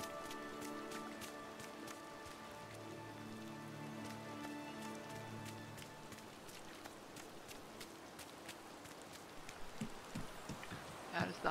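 Rain falls steadily in the video game Disney Dreamlight Valley, a soft continuous patter with light drops, mixed with gentle tonal game music and a few footstep-like taps near the end.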